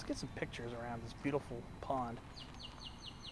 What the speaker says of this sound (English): That was the sound of the great-tailed grackle.